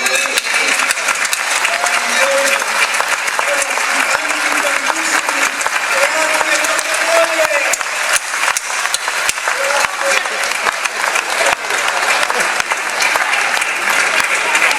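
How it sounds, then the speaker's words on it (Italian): Theatre audience in Porto Tolle applauding the troupe I Sbregamandati: a dense, steady wall of clapping that fills the whole stretch, with a few voices rising faintly through it. "Sbregamandanti, un applauso."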